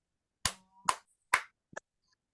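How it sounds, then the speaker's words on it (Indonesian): Three sharp hand claps in a slow, even rhythm, close and distinct, followed by a softer fourth smack; otherwise quiet. "Tepuk tangan 3."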